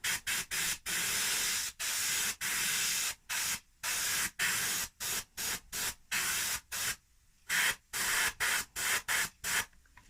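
An airbrush sprays paint onto an RC car body in repeated short hissing bursts of varying length, separated by brief silences, close and steady.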